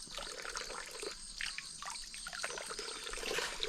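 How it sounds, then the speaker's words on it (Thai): Water runs and splashes while someone washes their hands outdoors in a village in the morning. The soft trickle is faint and continuous, broken by small bursts of splashing. "ล้างมืออีกต่างหาก"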